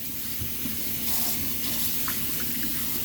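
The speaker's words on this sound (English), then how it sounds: "I'm going to rinse that off." Water from a faucet runs steadily into a sink as soap lather is rinsed off, a constant close hiss and splash with small splashy accents and no talking.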